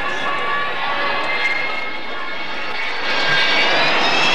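An Avro Vulcan jet bomber flying at an airshow makes a loud, continuous jet roar with a whining, howling edge that swells toward the end as it passes close overhead.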